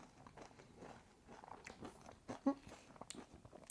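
Crunchy Carolina Reaper pepper candy being chewed up close, with quiet irregular crunches and bites and one sharper crack near the end, faint and without talk.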